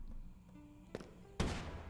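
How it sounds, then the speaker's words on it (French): An explosion in the video game Slasher's Keep goes off as a short, loud burst, following a smaller crack, close and over faint background. "Explosion."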